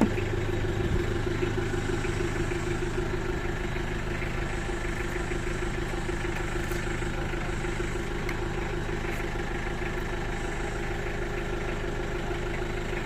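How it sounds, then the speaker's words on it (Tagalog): A Nissan Vanette diesel van engine idles steadily with a close, even low rumble and rhythmic clatter that runs unbroken the whole time. "Diesel engine na Nissan Banet."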